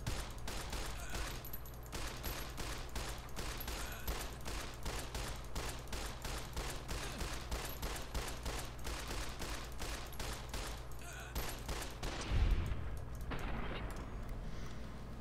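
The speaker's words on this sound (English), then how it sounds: "I shot your arm off." Rapid gunfire from a Fallout New California firefight, dense bursts of shots repeating steadily throughout with a low rumble underneath, ending in a heavier impact near the close.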